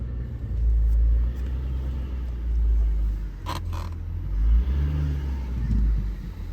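Worn-out shock absorbers on a Ford FG Falcon in motion, creaking and clunking over a low rumbling road and engine drone, with a couple of sharp knocks midway.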